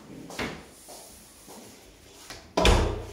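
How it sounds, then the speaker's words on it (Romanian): A hallway door being closed after being modified, several light wooden knocks and bumps while it is handled, then a solid close with a loud thud near the end. "Ia închide ușa."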